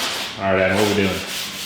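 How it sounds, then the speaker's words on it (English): Close, steady scraping of sanding on a door panel of a wrecked 2016 Dodge Hellcat being repaired for small dings, a continuous rubbing stroke that swells briefly in the middle and carries on alone without talk. "we are going to sand it down, put some body filler on it"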